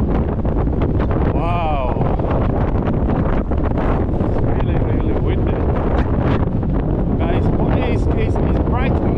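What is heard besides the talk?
strong wind on Blackpool promenade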